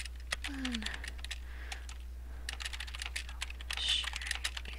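Typing on a computer keyboard at a desk, with a quick series of light key clicks in short uneven bursts, close but quiet over a steady low electrical hum.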